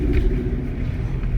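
A 2013 Mercedes-Benz C250 engine runs as a deep, boomy rumble from down near the floorboard, steady and close inside the car, with a voice faintly present.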